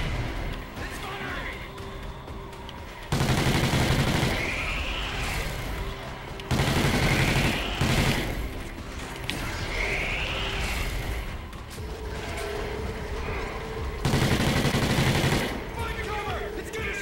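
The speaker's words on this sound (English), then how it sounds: "Oh, armor? It's about to fire. Look out. Don't go out there yet. She's firing." Heavy sustained gunfire from an armored enemy in Call of Duty Ghosts Extinction Nightfall, loud blasts arriving in long roaring bursts with rising whooshing sweeps between them, while players talk over the action.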